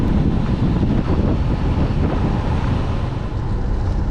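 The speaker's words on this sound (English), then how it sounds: "it's crazy when it's so windy" Strong wind buffets the microphone of a cyclist riding a road near Adelaide, South Australia, a loud, constant low roar with no talk over it.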